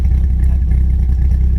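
A 2004 Dodge Viper SRT-10 with side exhaust, its engine held at steady throttle close by: a deep, continuous rumble with a pulsing, throbbing texture and no talk.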